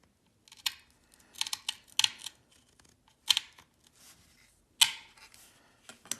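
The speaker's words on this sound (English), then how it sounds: "Now, to get these off, you have to do what's called trimming them." Snips trim gold-plated scrap close to the gold line, giving a handful of sharp, close metallic snaps and clicks in an irregular rhythm separated by quiet gaps.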